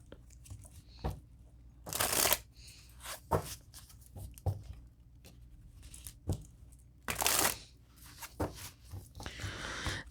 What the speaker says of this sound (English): I'll pull some tarot cards on that.